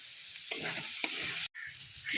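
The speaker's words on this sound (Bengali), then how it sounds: "শাকটা ভাজা হয়ে গেছে" Red amaranth greens sizzle in a pan while a utensil stirs and scrapes them in a few distinct strokes, with a brief break in the frying hiss, close and moderately loud.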